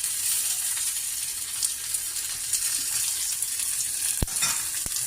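Garlic, green chilli, onion and asafoetida crackle in hot oil for a dal tadka tempering, a steady close sizzle with a couple of sharp clicks near the end and no talking.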